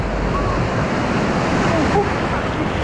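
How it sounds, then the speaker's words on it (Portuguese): Large ocean waves crash and surge in icy cold water, a loud, continuous broadband roar with wind buffeting the microphone close up. "Olha o tamanho dessa onda, velho."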